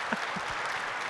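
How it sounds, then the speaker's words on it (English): Brief, steady applause from an orchestra concert audience in a church, a dense wash of clapping with a few low thumps and no speech. "You're just applauding because nobody's fired me yet"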